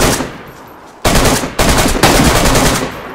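Loud bursts of rapid automatic gunfire in a zombie survival video game, a dense volley followed by two more sustained rattling bursts with brief gaps, close and dominant with no talk over them.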